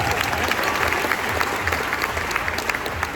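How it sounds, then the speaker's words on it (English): An audience at a school tour event claps and applauds, a loud, dense, continuous patter of hands that fills the whole moment. "Everybody clap it up."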